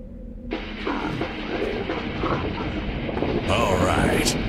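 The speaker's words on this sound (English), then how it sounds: "Train arriving." A train arriving in the game Angelo and Deemon: One Hell of a Quest, a rumbling rail noise that swells in after a quiet start and grows louder toward the end, with no talk over it.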